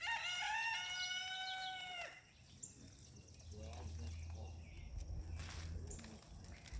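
Backyard chickens cluck and crow close by, a rooster's call ringing out loudly at the start before softer hen clucks continue over background rustling and a low hum.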